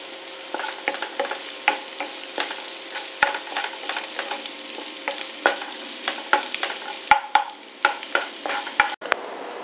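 Onions for tomato chutney fry in a pan and are stirred, giving a steady soft sizzle broken by a regular series of sharp spoon scrapes and taps against the pan, close and clear with no talking.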